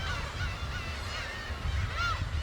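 A dense colony of black-tailed gulls calls on Dokdo island in spring, many overlapping honking cries over a steady low rumble of wind and surf, with no voices.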